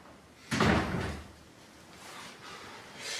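A drawer is slammed shut in a house: one loud, heavy thud and rattle, followed by quieter scraping and shuffling as the sound dies away.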